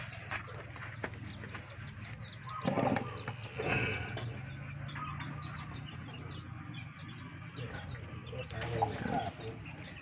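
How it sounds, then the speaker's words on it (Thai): Bantam chickens clucking in a rural garden, with a few nearby clucks and calls rising over a low outdoor rumble and faint background voices. "นี่ไปนู่นละไก่แจ้นะฮะ"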